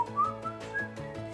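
A person whistles an imitation of the eerie whistle of the Silbón, the Venezuelan plains legend, with short rising and falling notes over a faint background, fairly close.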